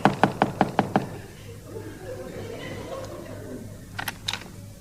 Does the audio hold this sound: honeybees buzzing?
no